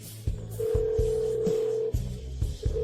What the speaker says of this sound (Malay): Zhou Shubai, angkat telefon.